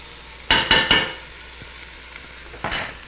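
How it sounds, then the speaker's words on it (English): Beef browning in a stew pot, stirred often to keep it from burning, with three quick scraping strokes close together followed by a quieter sizzle and one more scrape near the end. "You need to stir this meat pretty frequently to keep it from burning."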